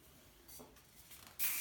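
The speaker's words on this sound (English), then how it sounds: "take a little bit of hairspray over top of it" Hairspray is sprayed over freshly curled hair in a short, bright hiss near the end, after a moment of quiet handling and soft rustling.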